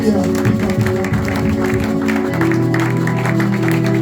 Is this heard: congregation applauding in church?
yes